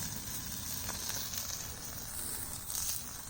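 Sausage links sizzle and fry steadily on a titanium Überleben Stöker flatpack wood stove, a close, continuous hiss with faint crackles throughout.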